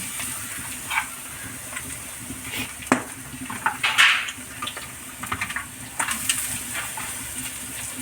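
Chopped carrots tipped into a hot pan while cooking biryani, with a steady sizzling hiss, scattered clinks and scrapes of a utensil, and a brief rattle as the pieces drop in.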